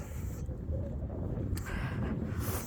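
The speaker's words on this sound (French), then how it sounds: "Je commence à avoir du vent" Wind buffeting a microphone outdoors on a cold night, a steady low rumble with gusts swelling and fading throughout, no voices.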